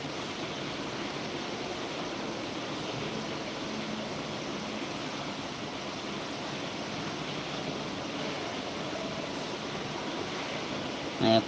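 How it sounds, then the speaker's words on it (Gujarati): Heavy rain falls in a steady broadband wash, a constant roar that stays even throughout. Faint background sounds sit under it, and a brief bump comes at the very end. "ખૂબ માત્રામાં વરસાદ આવી રહ્યો છે"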